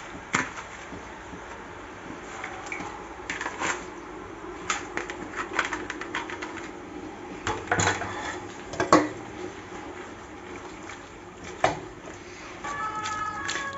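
Green cabbage going into a pot for a French potée makes irregular clattering knocks of utensils against cookware, some sharp and close, over a low quiet background with no clear talk.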